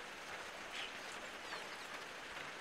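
Rain falls steadily on wooden garden crates of burnt soil planted with onions and vegetables, a faint, even hiss of drops with no voices.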